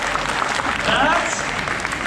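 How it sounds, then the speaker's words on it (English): A SeaWorld Orlando audience gives a loud, steady round of applause that fills the short moment, with cheering voices mixed in. "That definitely deserves a round of applause."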